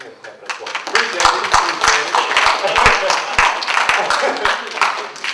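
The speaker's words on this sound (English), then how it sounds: "Let me clap that for you." A crowd at a Black history program at ECSU claps steadily, a dense crackle of many hands, fairly loud and continuous, with some voices mixed in.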